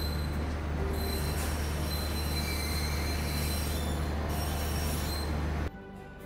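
Gatimaan Express standing at the platform just before departure, a steady low rumble and hum with faint high squeals and tones, loud and continuous before dropping off abruptly near the end.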